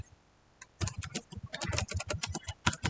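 Computer keyboard typing while writing Django template code, a quick irregular run of distinct clacking keystrokes after a short quiet start, close and clear with no talking.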